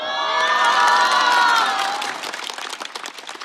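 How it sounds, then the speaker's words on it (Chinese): Loud cheering and clapping from a stand-up comedy audience, a dense roar of voices that gives way to rapid scattered applause as it fades. "谢谢大家热烈的掌声啊！"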